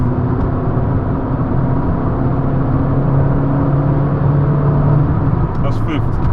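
A car engine drones steadily up close, its pitch climbing and settling as it works up through the gears to fifth at 70 mph, with a voice talking over it.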